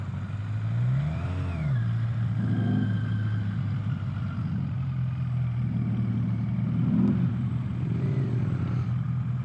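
A Yamaha Maxim 700 four-cylinder cruiser motorcycle revs up sharply a couple of times, then settles into a smooth, close idle between throttle blips.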